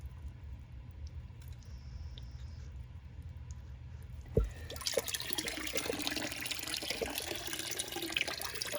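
Water trickles and splashes into a potted Phalaenopsis orchid as it soaks. A faint flow runs at first, then a clunk, and after it a louder, steadier splashing with small drips, close by and with no voices.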